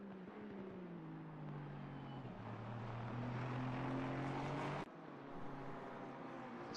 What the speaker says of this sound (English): That Mustang does sound good.